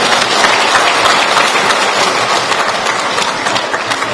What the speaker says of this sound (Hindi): एक बार ताली बजा दो हमारे बूथ अध्यक्षों के लिए भी